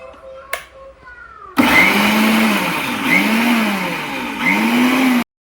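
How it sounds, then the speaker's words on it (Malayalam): Mixer grinder grinding coconut paste for spinach thoran, a loud steady motor whine with three rising pulses as the jar is worked, following a few seconds of quieter kitchen sounds. "എന്തായാലും നമുക്ക് അരച്ചെടുക്കാം"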